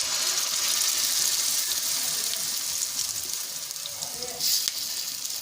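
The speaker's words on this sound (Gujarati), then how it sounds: "હવે એમાં આપણે ખીરું એડ કરીશું" Fermented dhokla batter meets a hot tempering of cumin, sesame seeds and curry leaves, giving a steady close sizzle throughout with a brief louder burst near the end; no talk.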